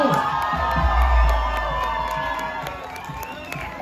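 Concert audience at a band show cheers, whoops and claps for the dancing girls, a dense, steady roar of many voices that swells early and then eases slightly.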